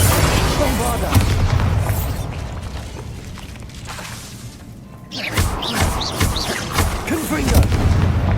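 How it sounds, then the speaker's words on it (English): Blasting spell in the Hogwarts Legacy video game, heavy booms and crashing debris in a loud, sustained battle, fading briefly before another round of impacts, with voices calling out during the fight. "Bombarda!"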